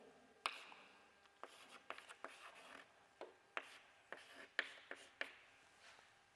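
Pen writing notes in short form on paper during a biochemistry lecture, a close series of soft scratchy strokes and taps at an irregular pace, quiet, with no talking.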